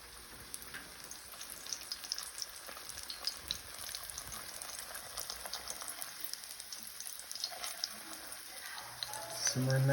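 Fry bread sizzles in hot oil with a steady, close crackle and spatter of popping bubbles that runs throughout and swells slightly at the end.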